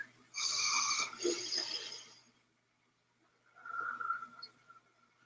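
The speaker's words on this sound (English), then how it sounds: "Okay, 3 deep breaths." A person takes a deep breath in and lets it out slowly during a breathing exercise, a close, breathy inhale followed by a softer exhale after a pause.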